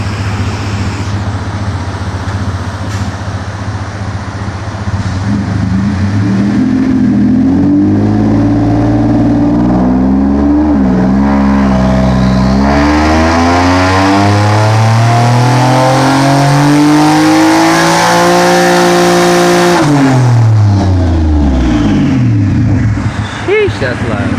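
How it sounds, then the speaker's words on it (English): A Hyundai Genesis Coupe with a 3.8 turbo engine makes a loud, close dyno pull in fourth gear, its note climbing steadily from low revs to a high scream over about twelve seconds before dropping sharply as the throttle closes. "Doing a 2500 to 7000 RPM, 6-second pull in 4th gear"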